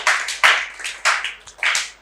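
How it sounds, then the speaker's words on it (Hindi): Scattered clapping from a small group of students in a classroom, about five short uneven bursts of hand claps with brief gaps between them, close and fairly faint. "आप लोग अपने लिए एक बार तालियां बजाओ"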